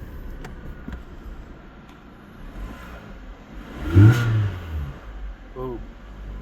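A 2013 Chevy Sonic with the 1.8 engine and a K&N cold air intake, already warm, gives a brief rev that swells and fades, heard faintly beneath background noise, with a voice nearby.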